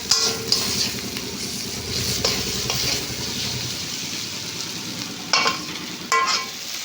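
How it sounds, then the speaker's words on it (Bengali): Spices fry in oil in a pan for a Bengali doi katla, a continuous close sizzle with stirring scrapes, and a couple of sharper clinks from the spoon near the end. "একে একে সব মশলাগুলো আমি ভেজে নেব বেশ ভালো করে"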